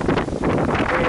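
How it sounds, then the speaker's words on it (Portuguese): Strong cold wind buffets the microphone outdoors near a luxury residential building by a marina in Miami, Florida, with loud continuous rumbling gusts and no talk. "Hoje o dia tá frio, tem muito vento."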